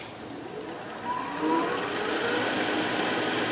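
Steady whirring hum of a wood lathe spinning near 1700 RPM as a winged bowl is turned, a continuous close drone with a faint rising whine and no voices.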